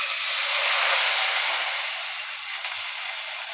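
Milk poured into a pan of fried vermicelli for payesh, a steady loud hissing sizzle as the liquid hits the hot pan, easing slightly as the pour continues, with no talking.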